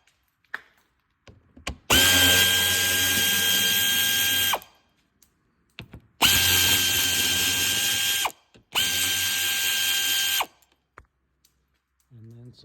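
Power tool spinning out 7mm fasteners from an underbody cover on a 2005-10 Chevrolet Cobalt during a clutch replacement, in three loud whirring bursts of a few seconds each, with clicks and handling noises between them.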